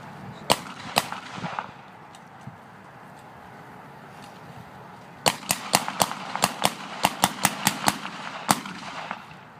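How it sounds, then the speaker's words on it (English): An M1 .30 carbine fired semi-automatically at an outdoor WW2 gun show. A few spaced shots come first, then a rapid string of about a dozen sharp, loud cracks with a brief echo after each. "First Sergeant here is going to give a demonstration of the 30 carbine"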